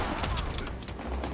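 Bursts of rapid gunfire from the World War II shooter game Call of Duty WWII crackle in quick succession, dense and loud through the whole short stretch.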